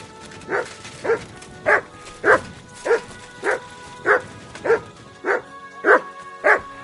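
Mutt, a dog in Kingdom Come: Deliverance II, barks eleven times in an even, steady rhythm, each bark short and clear, at moderate distance.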